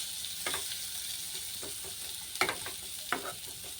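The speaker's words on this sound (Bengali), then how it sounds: "এবার সাইডে দিয়ে পেঁয়াজটা দিয়ে দেব। পেঁয়াজও একটু কম করে ভেজে নিব।" Chopped onion frying in a pan for a Bengali prawn bharta, a soft steady sizzle with a few light scraping stirs of a spatula, close and fairly quiet, no voices.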